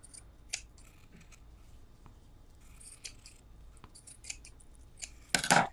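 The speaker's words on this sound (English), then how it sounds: "And then I trim around the edges." Scissors trimming fabric around the edges of a handmade bow, a series of soft, scattered snips close by in a quiet room, ending with a louder rustle.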